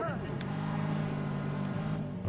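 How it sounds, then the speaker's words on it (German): A wrecked car in the video game Watch Dogs accelerates away with a steady droning engine note that holds throughout and is fairly quiet and continuous. "Ich nehme hier mal mein geschrottetes Auto und nagel hier durch."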